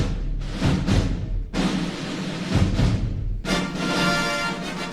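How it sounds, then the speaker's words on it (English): The 20th Century Fox fanfare plays from an old Star Wars story album: loud brassy orchestral blasts with rolling drums, swelling in bold phrases and separated by brief gaps. "And it's that 20th Century Fox fanfare music."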